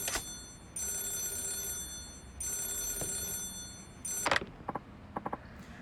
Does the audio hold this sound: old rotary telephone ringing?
yes